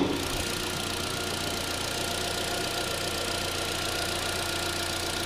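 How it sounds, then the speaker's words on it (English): A 2013 Chevy Sonic's Ecotec 4-cylinder engine idles under the hood, a steady, even hum with a faint ticking texture, close and constant throughout with no speech. "And a little Ecotec 4-cylinder. Right, nice and strong, nice and smooth."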